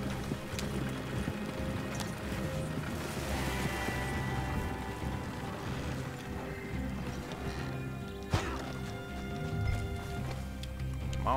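Hooves clip-clop at an even pace across a video game landscape, moderately loud, with a wagon rumbling along beside them and a few scattered knocks.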